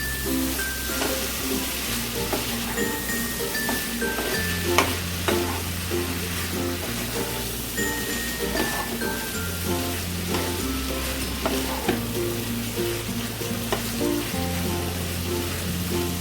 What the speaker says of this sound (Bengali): এবারে আমি লতিগুলোকেও দিয়ে দেবো চিংড়িগুলোকেও দিয়ে দেবো দিয়ে ভালো করে নাড়াচাড়া করবো